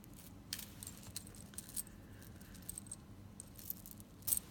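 Costume jewelry from a large thrift-store jar is sorted by hand, producing scattered light metallic clinks and jangles, with a brighter cluster of clattering near the end, close and fairly quiet.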